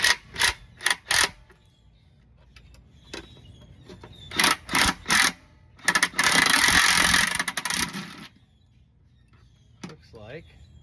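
Air impact gun driving transmission bolts on a 2003 Jeep TJ, with several short loud rattling bursts and one long sustained hammering run, close up in a garage.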